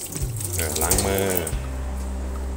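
Tap water runs into a kitchen sink as hands are washed while cooking a naem omelette, a steady splashing stream beneath a voice.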